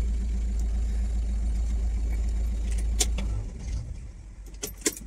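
Peugeot 3008 engine idling close by, a steady low rumble that shuts off about two thirds of the way through, followed by light key jangling and small clicks in the quiet.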